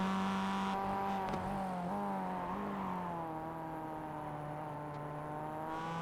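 A Mazda MX-5 race car engine drones on track at Summit Point, its steady harmonic tone shifting in pitch as the car moves through corners, heard continuously and fairly distant.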